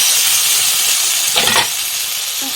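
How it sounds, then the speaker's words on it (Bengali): Continuous loud hissing sizzle, with a brief burst of sharper crackling as eggplant drops into the hot frying pan, then steady sizzling. "এবার বেগুনটা আমি এর সঙ্গে দিয়ে দিলাম"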